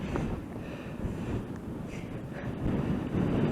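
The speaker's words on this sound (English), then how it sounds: "It's a shame about the wind." Wind gusts across the open summit of Glastonbury Tor in Somerset, a low, continuous rumbling buffet on the microphone that swells slightly toward the end, with no voices.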